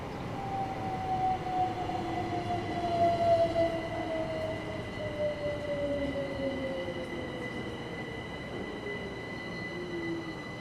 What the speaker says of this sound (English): The Class 375 Electrostars are electric multiple units that were built by Bombardier Transportation at Derby Lichchurch Lane Works from 1999 to